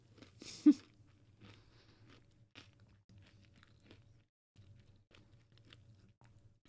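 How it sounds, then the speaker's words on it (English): Someone munching regular breakfast cereal, with a sharp crunch near the start followed by quieter, steady chewing close to the mic over a low background hum. "I'm sorry for the munching sounds."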